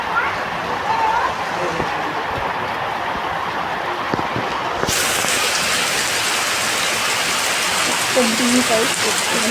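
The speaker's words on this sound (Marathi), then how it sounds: "भरपूर जोराचा आणि असा आदळून पाऊस होता" Heavy rain pours down and pounds hard on surfaces in a dense, continuous roar that suddenly grows louder and brighter partway through, with no break in the downpour.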